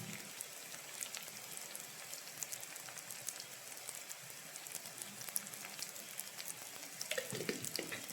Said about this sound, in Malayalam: നന്നായിട്ടൊന്ന് സോട്ട് ചെയ്യുക. ഈ പൊടികളൊക്കെ ഒന്ന് മൂക്കണം.